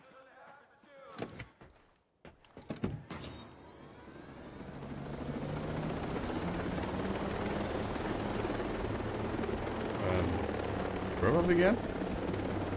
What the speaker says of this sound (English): There's the helicopter.